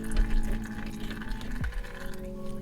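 Gear oil being pumped into a Mitsubishi Evo 7 driveline during a diff, gearbox and transfer case service: a continuous gurgling, liquid fill sound with a low mechanical drone and a shifting tonal whine, close and steady.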